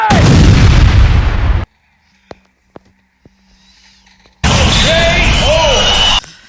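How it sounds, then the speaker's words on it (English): A deep, loud roaring blast fills the opening seconds, then quiet with a few faint clicks, before a second sustained roar of explosion noise returns, from a tactical nuke detonation in Modern Warfare. "Tactical nuke incoming!"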